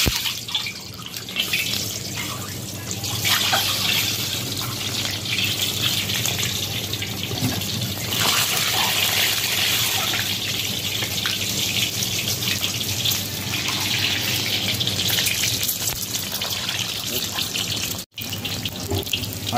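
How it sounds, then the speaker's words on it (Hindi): Eggs fry in hot oil in a kadai, giving a loud, steady, hissing sizzle that runs unbroken for nearly twenty seconds, close up with no voices. "अभी अंडा फ्राई कर लेंगे।"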